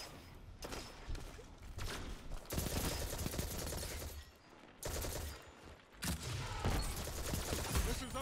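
Automatic rifle fire in a video game rattles in several sustained bursts, loud and close, separated by brief lulls with softer game ambience between.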